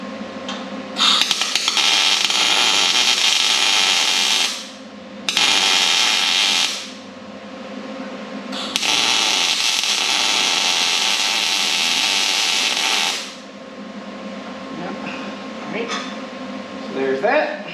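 Steel plate being spot welded onto a race car seat mount with an electric welder, heard as three loud, steady buzzing bursts of several seconds each, separated by short pauses, with a faint hum between them.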